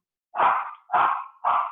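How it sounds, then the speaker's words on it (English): A dog gives three quick, sharp barks in a row, fairly close and clear against an otherwise quiet room. "Sorry about the dog."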